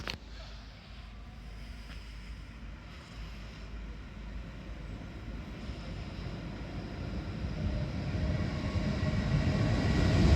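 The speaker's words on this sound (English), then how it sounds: "Passing on platform 1 is going to be a very late running LNER Zuma, and this is going from fast line switching to slow line again" An LNER Azuma passing through platform 1 at Hitchin on the East Coast Main Line, running late while crossing from the fast line to the slow line: a steady broad rumble of wheels and rail noise that grows gradually louder, with no talking.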